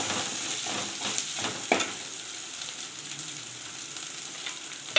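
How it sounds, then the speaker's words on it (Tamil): Onions sizzle with ginger-garlic paste in hot oil for chicken biryani, a loud, close, steady frying hiss with a brief clatter of a spoon near the start and no talking. "இப்போ இஞ்சி பூண்டு பேஸ்ட் கொஞ்சம் வதங்கி வச்சு வெங்காயத்தை போட்டுக்கலாம்."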